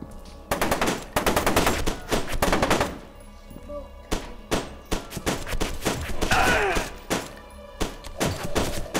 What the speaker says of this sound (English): Shooting you around corners.